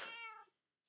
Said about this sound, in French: J'ai adopté un chat par-dessus le marché, regardez, ça c'est mon chat.